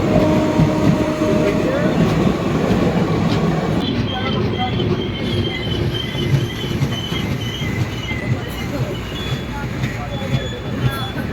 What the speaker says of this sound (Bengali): যে সময় দাঁড়িয়ে ছেড়ে দিচ্ছে আমাদের ট্রেন দার্জিলিং মেল।